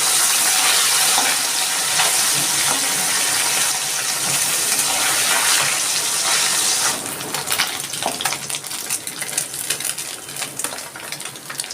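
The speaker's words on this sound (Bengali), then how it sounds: "মাছটা দিয়ে দিচ্ছি।" Fish, salted and rubbed with turmeric, drops into hot oil and sizzles in a dense, loud crackle that later turns into a more broken, spattering fry.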